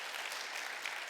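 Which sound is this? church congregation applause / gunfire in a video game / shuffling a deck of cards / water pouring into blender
church congregation applause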